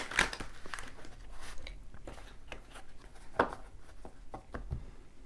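A tarot card deck is cut and shuffled by hand, giving scattered dry riffles and crisp card snaps at close range, faint and irregular with no talking.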